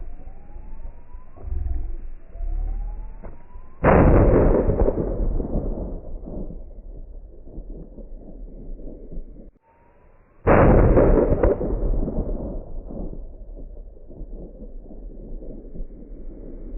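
Two loud, sharp rifle shots fired at a lion during a hunt on foot in the African bush, each a sudden blast with a long rolling decay, spaced about six seconds apart; quiet rising tones precede the first.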